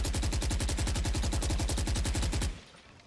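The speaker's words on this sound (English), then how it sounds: "I like to spray both of these doors down until they break" Sustained automatic fire from a Phantom rifle in Valorant, a fast, steady stream of loud shots sprayed at breakable doors, running for about two and a half seconds before cutting off into quiet.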